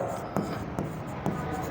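Handwriting with a pen on paper while working a partnership accounts problem, heard as three soft scratchy strokes at a steady pace over a constant background hiss.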